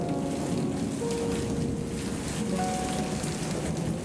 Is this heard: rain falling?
yes